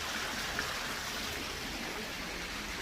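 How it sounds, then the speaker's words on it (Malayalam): Water trickling and flowing inside a rocky cave, a steady faint hiss of running water with no distinct rhythm, heard as continuous background wash. "പക്ഷെ ഇവിടെ വെള്ളം ഒലിക്കുന്നുണ്ടായിരുന്നു, ഒഴുകുന്നുണ്ട്."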